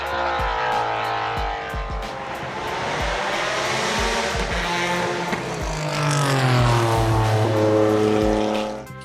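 A Singer DLS 911 turbo engine revs hard past 9,000 RPM, rising through repeated sharp gear changes with loud, close, raspy exhaust tone and no talking.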